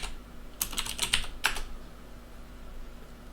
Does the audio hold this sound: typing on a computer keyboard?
yes